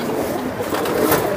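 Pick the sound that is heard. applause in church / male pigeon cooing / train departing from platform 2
male pigeon cooing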